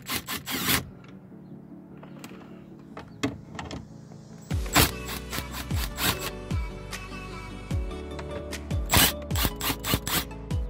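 Screws being backed out of the stereo trim on a 2014 Chevrolet Traverse, with sharp clicks and brief mechanical rattles in bursts, a quiet lull, then a denser run of clicks and knocks close by.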